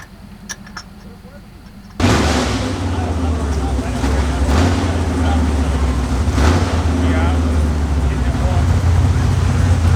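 A Slant Six drag car launching down the strip, quiet at first, then a sudden roar that holds as a loud, rough, sustained engine blast with rumbling low tones.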